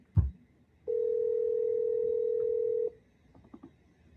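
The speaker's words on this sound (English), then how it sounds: "Phone is ringing." A telephone ringback tone on a call: one steady, moderately loud tone lasting about two seconds, preceded by a short thump and followed by faint clicks and rustling.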